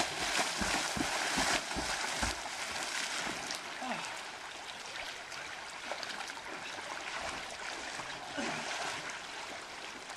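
A shallow meandering river rushes steadily around someone wading against the current, a close broadband wash of flowing water with small splashes and a faint voice.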